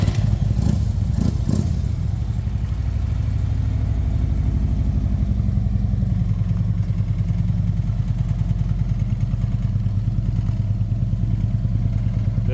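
A 2012 Harley-Davidson Tri Glide with Vance and Hines exhaust, high airflow intake and tune idles steadily and close up, a loud, low, even lumpy rumble after a brief rev at startup.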